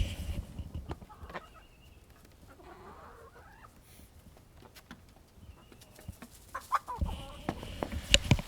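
Leghorn and ISA Brown hens on a snowy homestead give scattered clucks and soft calls, close by, over a low background hum, growing busier and louder toward the end.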